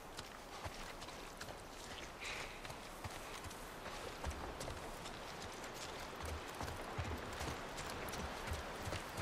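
Horse hooves clip-clop steadily in The Last of Us video game, a faint, rhythmic patter of footfalls against a dense, noisy ambient background.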